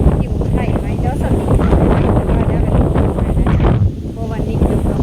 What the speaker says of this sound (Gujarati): પવન નીકળ્યો